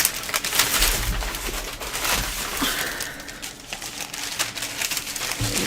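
Sheets of wax paper are handled close by, giving continuous crinkling and rustling with soft taps and shuffles throughout, no talking.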